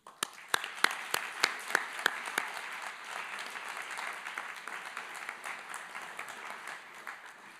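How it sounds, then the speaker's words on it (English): At the Policy Idol 2023 grand final, the audience applauds the competing teams. A few sharp, close individual claps ring out first, then a softer, scattered crowd applause that tapers off. "a big round of applause"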